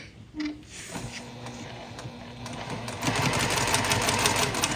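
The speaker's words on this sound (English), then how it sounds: "Now all I'm going to do is sew along that edge just like I have in the past." A sewing machine stitches along the edge of a quilt block, a steady mechanical whir that starts after a brief pause and grows louder and denser toward the end, heard up close with no talking.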